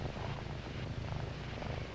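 Domestic kittens purr in a steady, low continuous rumble that fills the whole stretch at close range, with no talk over it.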